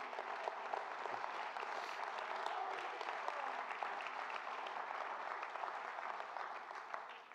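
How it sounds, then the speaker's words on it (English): A church congregation claps steadily through a worship service, a dense, even wash of applause that holds at one level from start to finish with no voices rising above it. "let's clap our hands to the Lord."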